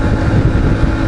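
A CFMOTO 450 MT motorcycle cruising at 110 km/h around 6,300 rpm, a loud, steady engine drone blended with rushing wind noise, close and continuous, no talking.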